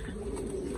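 Pigeons kept for pairing and breeding give a low, soft coo that hums steadily beneath a constant background rumble, close by and without talk.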